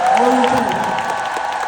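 Concert audience at a 2025 concert applauding during a talk segment, a short, loud, close wash of clapping with a voice carrying over it.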